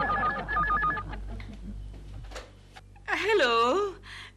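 A telephone rings with a warbling electronic tone in a Hindi comedy-show home scene, preceded by chirpy beeping, with people talking over parts of it.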